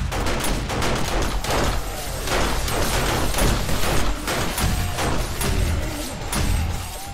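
Heavy pistol and gunfire in the zombie survival video game 7 Days to Die, a chaotic continuous barrage of overlapping shots and thuds, loud and close, with no talk.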